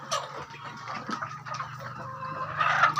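Hens kept in a poultry flock cluck nearby in a continuous, overlapping chorus of short clucks and calls that grows louder near the end.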